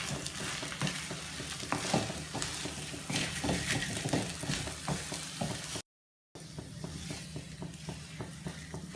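Masala stuffing for stuffed idli, seasoned with chaat masala, is stirred in a pan with a steady, close scraping and soft sizzle, broken by a brief moment of silence near the end.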